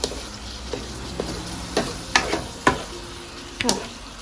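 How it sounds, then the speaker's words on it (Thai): Pork belly with lemongrass and torn kaffir lime leaves sizzles in a hot pan, a constant frying hiss broken by several sharp spatula scrapes and taps at irregular intervals, close and clear. "ถ้าผัดไปจนกว่าเขาจะสุกเนาะ"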